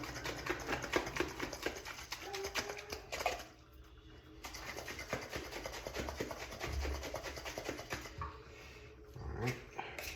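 Cream and water being shaken in a container to make butter, a steady broadband rubbing, sloshing rattle that runs nearly throughout with a short pause, close and moderately loud.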